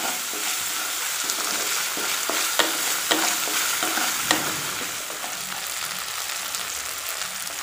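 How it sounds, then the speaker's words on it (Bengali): Ginger-garlic masala ground on a grinding stone is stirred in a sizzling pan for an eggplant curry, with a steady frying hiss and a spatula clicking against the pan every second or so, nearby and with no speech. "এখন আমি ভালো করে মিক্স করে নেব"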